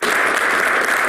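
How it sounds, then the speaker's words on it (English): Audience applause for a guest speaker at a live-streamed presentation, a dense, steady wash of many hands clapping at once, loud and close for the whole moment with no voices over it. "Can you give me a round of applause?"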